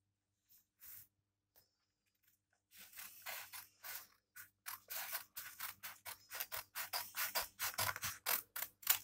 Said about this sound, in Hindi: बाद में सीजर लेके उसे काट दीजिए।